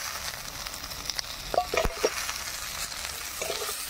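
Crushed durga chhatu mushrooms, foraged from the forest, fry in a spice paste of cumin and dried red chilli, giving a steady close sizzle broken by a few sharp stirring scrapes and clinks.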